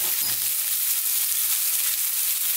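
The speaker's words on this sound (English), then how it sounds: "on this high heat, let's fry these around for about 3 to 4 minutes" Garlic ginger paste fries on high heat in coconut oil, a steady bright sizzle that stays even and fairly close throughout.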